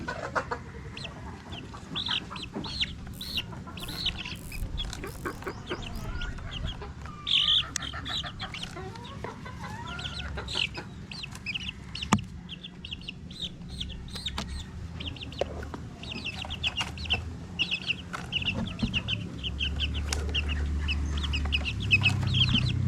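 Chickens and small chicks on a poultry farm, clucking and peeping almost constantly at close range, with overlapping chirps and occasional louder squawks over a low background rumble.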